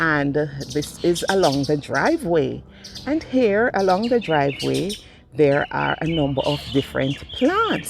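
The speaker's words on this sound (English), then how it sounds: "if you listen in the background and you hear the birds chirping" Birds chirp and tweet faintly in the background of a lush orchid garden along a home's driveway, scattered calls heard beneath steady, continuous talking by a man.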